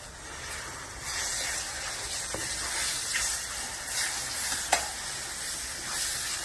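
Burnt tomato and masala mixture for pav bhaji sizzling steadily in a pan while a spoon stirs it, with a few sharp scrapes and clicks over the constant close frying hiss.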